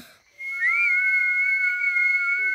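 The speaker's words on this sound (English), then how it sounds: "Please, can you show me how to whistle again?" A single sustained whistle rises briefly in pitch and then holds a steady clear tone for about two seconds, close and alone.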